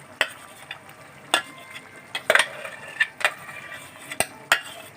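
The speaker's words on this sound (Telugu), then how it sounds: "బాగా వేగిన పన్నీర్లో ఈ పేస్ట్ వేసేస్తున్నాం" Onion, green chilli and cashew paste frying with browned paneer in a pan, heard as a steady soft sizzle with repeated clinks and scrapes of a spoon stirring against the pan.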